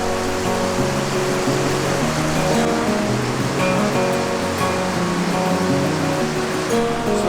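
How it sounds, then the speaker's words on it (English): Car fording a river in a canyon in Tomorr National Park, Albania, with continuous loud rushing and splashing water under a low engine drone, steady throughout. "We're deep in the water right now"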